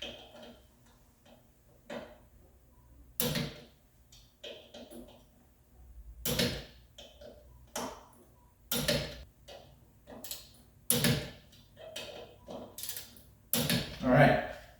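A ratchet slowly turns a Porsche 911 engine through a full rotation, producing irregular close clicks and short ratcheting bursts with pauses between strokes, with someone talking faintly at times.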